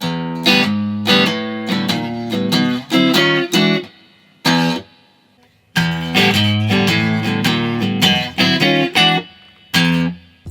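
An electric guitar plays a shuffle with distortion, a loud chugging rhythmic pattern of strummed chords and accents that briefly pauses and then repeats.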